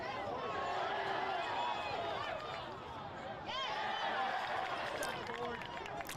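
Crowd cheering at a high school soccer match between Brother Martin and Jesuit; a broad, sustained roar of spectators rising and falling, with a commentator talking over it.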